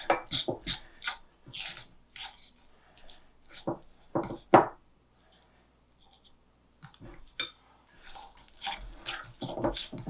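Butter and sugar creamed by hand for cinnamon rolls: intermittent scraping, rasping strokes of a utensil against a bowl, close and fairly quiet, coming in irregular clusters with pauses between.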